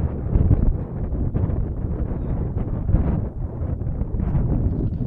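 Strong wind buffets and roars steadily at a baseball field, a low rumbling gust noise with no voices.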